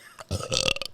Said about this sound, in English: Burp on the mic.